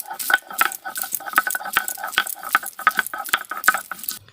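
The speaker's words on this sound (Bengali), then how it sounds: "এটা কিছু আদা, রসুন আর দুটো কাঁচা লঙ্কা বেটে নিচ্ছি।" Ginger, garlic and two green chillies being ground by hand, a quick rhythmic series of sharp clacks and scrapes, close and fairly loud, with no talking.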